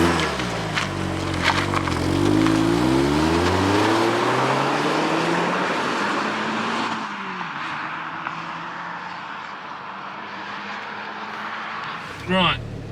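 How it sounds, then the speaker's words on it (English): A Citroen C4 VTS cruises on an open road, its engine note climbing through the gears in a steady drone with rushing road and wind noise, then settling to a quieter hum before a short closing bump. "we're going to do some nice bit of open road here, and we're going to see what it drives like"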